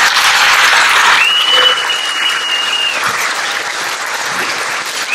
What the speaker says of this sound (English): So go ahead and give them an applause.